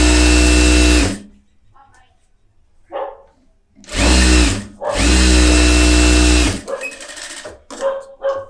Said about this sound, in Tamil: இப்போ லைனிங் எடுத்துட்டு ஓரத்தில் தையல் போட்டுக்கலாம்.